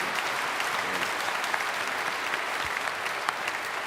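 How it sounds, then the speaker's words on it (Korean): A church congregation at a special early morning prayer service applauding, a dense, sustained burst of clapping from many hands filling the room without pause. "우리 박수 한번 하겠습니다."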